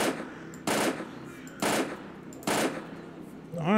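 Three loud gunshots from the video game STALKER Clear Sky crack out at even intervals over a low background hum, with a brief rising tone at the end.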